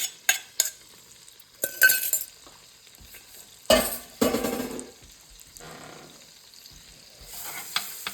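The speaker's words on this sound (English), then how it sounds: "I'm gonna fry off this garlic a little bit, not too much, it cooks really quickly." A whole head of crushed garlic frying in a pan, sizzling steadily while a utensil clacks sharply against the pan and scrapes through it in bursts, with no talking.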